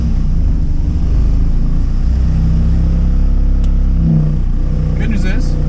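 A Porsche project car's engine fires up and settles into a steady, loud idle rumble that fills the whole stretch, with a brief rise in revs near the end.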